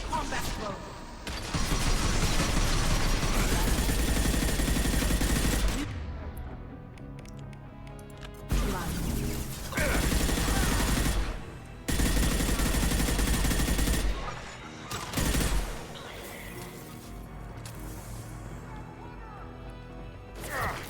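Loud bursts of gunfire in Mass Effect 2 crash in several long volleys, broken by brief quieter pauses, with talk in the gaps.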